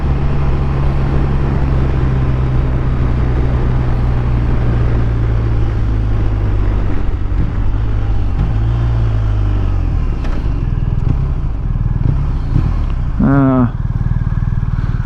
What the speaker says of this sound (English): We're just cruising around here on this smooth riding